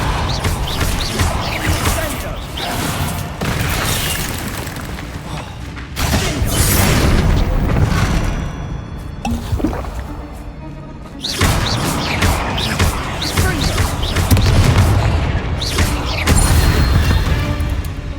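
Spell explosions in the video game Hogwarts Legacy boom and crash loudly and densely, with thuds, rumbles and mechanical clatter running almost continuously in two heavy waves.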